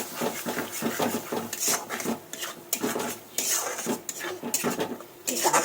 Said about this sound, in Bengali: এটাকে নাড়ার পালা